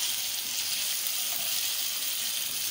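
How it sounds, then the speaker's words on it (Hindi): Steady, dense sizzling of mutton frying with ginger and garlic in a hot karahi, a continuous crackling hiss with no voices. "3 से 4 मिनट इसको भूनेंगे अदरक लहसुन के साथ,"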